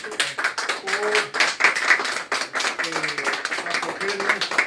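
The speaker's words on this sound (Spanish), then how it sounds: "desearía hacer un voto de aplauso" A small meeting audience applauds with scattered, uneven clapping that lasts throughout, while voices murmur and overlap the claps.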